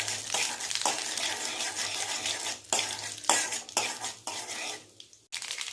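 Chana dal and popping mustard seeds stirred in a hot frying pan with a metal spoon, giving steady scraping clatter and sizzle in close, repeated strokes with brief pauses, no talking.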